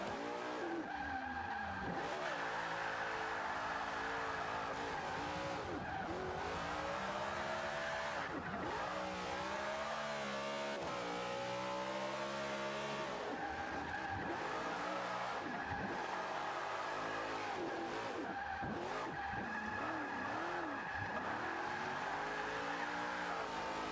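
Cars drifting in Forza 5, tandem drifting with engines revving up and down and tires squealing in long sliding bursts, steady and loud throughout with no talk.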